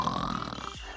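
Children imitating snoring during a Simon Says game, a short rasping, snorting breath sound lasting about a second, close and fairly loud.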